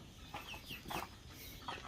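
A few soft, quiet clucks from desi chickens in a netted coop, short and scattered over faint background noise.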